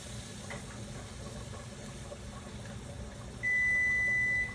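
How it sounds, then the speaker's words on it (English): A kitchen timer for pasta cooking sounds a steady high electronic beep near the end, close by, over a low background rumble. "that alarm means the pasta is about 3 minutes from cooking"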